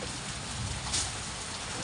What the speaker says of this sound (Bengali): বৃষ্টিটা মনে হচ্ছে অনেকক্ষণই হবে বলো